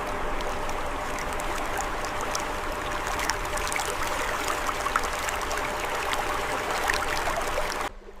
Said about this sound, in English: The water flows endlessly, a calming presence in the quiet Swiss countryside.